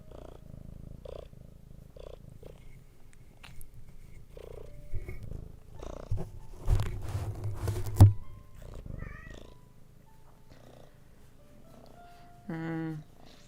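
A female cat purrs close to the microphone, a steady low rumble broken by bumps and scuffs as she paws at it, with a few louder knocks midway and a short tonal sound near the end.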